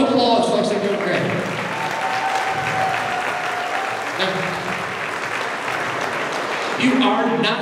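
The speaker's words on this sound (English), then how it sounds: "Give them a round of applause, folks." Audience applause fills a hypnosis stage show at a Dreams Punta Cana resort: steady, dense clapping from a sizeable crowd, loud and sustained throughout, with a few voices and cheers mixed in.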